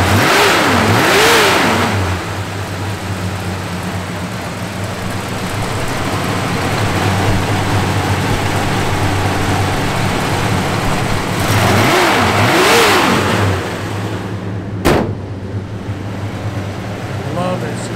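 A 1968 Dodge Charger R/T with a slightly upgraded cam revs loudly up close, two throaty blips rising and falling over a rumbling idle, while voices talk nearby; a sharp click comes near the end.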